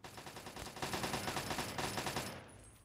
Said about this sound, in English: And he's shooting at me first.